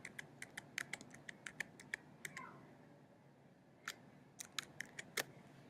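Someone taps keyboard shortcuts on a computer keyboard in quick, crisp clicks, with a rapid run of keystrokes, a short pause and then another burst of sharp taps close to the microphone.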